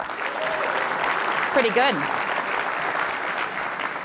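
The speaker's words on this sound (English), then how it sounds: "just by a round of applause, how good a time are you having so far?" A conference audience gives a steady round of applause throughout, with a speaker's brief remark heard over the clapping.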